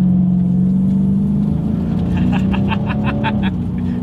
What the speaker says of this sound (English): see how quickly we can get this new 2020 Challenger Scat Pack here up to speed